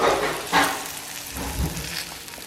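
Tadka tempering for a spinach kuzhambu sizzles and crackles in hot oil, a close, hissing burst of spitting and popping that swells and fades in short waves.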